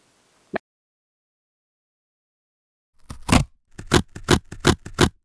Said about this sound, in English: I'm gonna tape it off